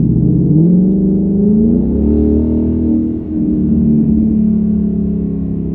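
A 2019 Ford Mustang GT's AWE Touring cat-back exhaust rumbles deeply, revving up and easing back in a low, loud growl without any talking.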